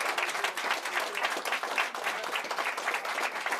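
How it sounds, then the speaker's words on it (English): Audience applause for a magic show assistant during a mentalism stage performance, dense steady clapping from a crowd sustained for several seconds, moderately loud with little talk. "Ladies and gentlemen, give her a round of applause."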